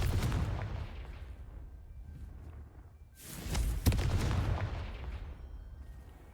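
Confringo fire spell bursting in Hogwarts Legacy, loud explosive blasts with a rumbling tail, a quieter stretch and then a second sharp booming impact followed by fading crackle.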